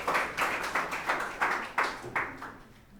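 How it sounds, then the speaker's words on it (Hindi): Steady rhythmic clapping from a class audience, about eight even claps in a row, close and moderately loud, with no talking. "तो जोरदार ताली बजाइए मिस नैन्सी राज के लिए।"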